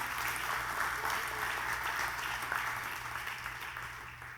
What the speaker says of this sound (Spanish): O dale un aplauso a Dios si lo recibes.